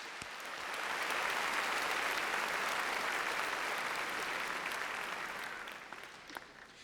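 Audience applause at the Raytown High School 2013 graduation, a steady wash of clapping that swells in within the first second, holds evenly for several seconds, then thins out toward the end.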